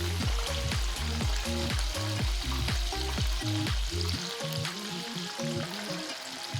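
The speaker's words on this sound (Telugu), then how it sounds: "ఇలా మంచిగా ఫ్రై అవుతూ ఉండాలి." Chicken cutlets fry in oil with a dense, crackling sizzle close by. A quick run of rhythmic knocks from a utensil sounds beneath it, then stops and leaves the frying alone.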